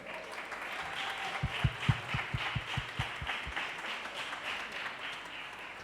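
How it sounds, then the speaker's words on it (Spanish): Applause from a church congregation, a steady wash of clapping with a short run of about ten sharper, closer claps standing out near the middle. "Vamos a darle la bienvenida a Saulo y Marisa. Un aplauso para ellos."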